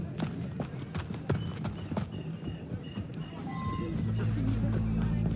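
Clip-clop hoofbeats of a horse running in Assassin's Creed Unity, a steady galloping rhythm close by, with game music and ambient noise building underneath.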